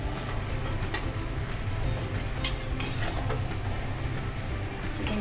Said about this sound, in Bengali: আমি মশলা দিয়ে ভালো করে চিকেনটা কষিয়ে নিয়েছি